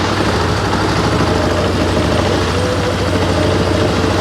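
Polaris Sportsman XP 550 ATV engine running at idle, a loud, steady low rumble with an even mechanical drone and no talk over it.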